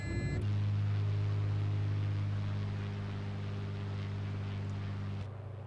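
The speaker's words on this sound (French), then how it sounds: "On va sortir le train." A Beechcraft Bonanza F33 single-engine airplane drones steadily in flight with a loud, continuous engine hum as its landing gear is lowered, the tone holding for about five seconds before dropping off near the end.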